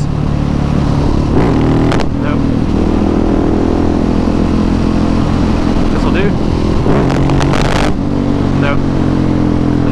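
Motorcycle engine revving hard through a wheelie attempt, a loud steady drone with throttle surges rising and falling close by, and a voice talking over it.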